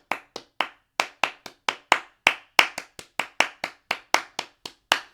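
A single person claps a compound-time duplet rhythm, with crisp dry handclaps close up arriving in regular paired groupings. There is silence between the claps and no voices.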